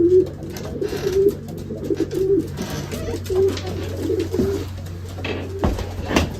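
Racing pigeons cooing inside their loft, repeated soft low coos in a loose rhythm over a steady background hum, close and clear with no speech.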